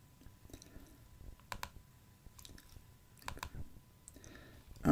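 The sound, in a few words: mouse click on Open in Excel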